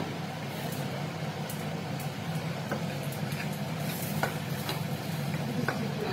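Ingredients for beetroot chutney fry in oil in a pan at a home kitchen, giving a steady, fairly soft sizzle with occasional stirring clicks and scrapes; no talking.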